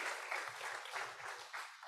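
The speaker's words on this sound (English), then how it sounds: "A big round of applause to the students." An audience applauds students at a talk event, a steady patter of many hands clapping at moderate distance for under two seconds, with no voices.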